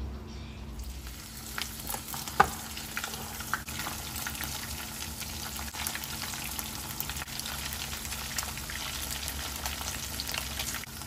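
Batter-coated fish seasoned with turmeric sizzles and crackles steadily in hot oil in a pan, a constant close frying hiss with occasional pops and no talking.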